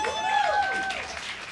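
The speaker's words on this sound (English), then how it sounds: "So give them a round of applause." Audience applause at an award celebration marking five years of impact, a steady wash of clapping sustained through the brief moment with some voices mixed in.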